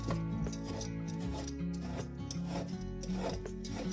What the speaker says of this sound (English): Let's just go ahead and peel this second one.